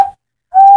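An owl call imitated by blowing into cupped hands, two hollow whistling hoots, a short one followed after a pause by a longer, steady tone, close and loud.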